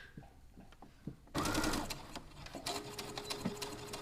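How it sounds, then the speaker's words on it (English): Home sewing machine stitching and back stitching: a few faint clicks, then a sudden loud, rapid mechanical whirring burst that continues with rhythmic needle clatter, close up, no voices. "I'm back stitching because all good sewers always back stitch."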